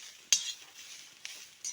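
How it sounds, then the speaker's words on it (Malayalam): Grated coconut roasts in a pan for coconut chutney. A utensil scrapes and stirs it in a few short, sharp strokes with quiet gaps between, close and fairly soft. "നാളികേരം വറുത്തുകൊണ്ടിരിക്കുകയാണിത്"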